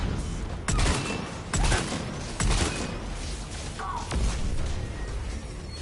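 Sniper rifle fire in the Mass Effect video game: a few sharp, heavy shots spaced about a second apart, loud over a steady game background rumble.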